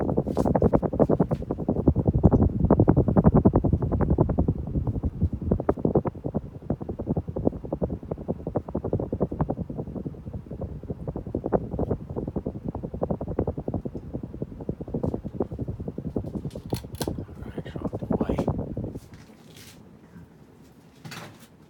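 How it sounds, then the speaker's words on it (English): Close, blustery whooshing of air from a 52-inch Hunter ceiling fan, buffeting the microphone in rough gusts, then dropping off abruptly near the end. "bringing up close to hear the air movement."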